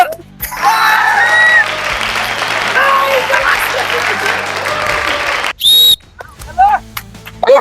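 Enthusiastic applause with whistles and whoops from onlookers at a blindfolded party game, loud and sustained for several seconds, then breaking off into scattered shouts and voices.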